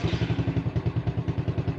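Motorcycle engine idling close by right after a touch-switch start, a fast, even chugging pulse of low thumps with a rattly clatter, steady for the whole stretch with no talk.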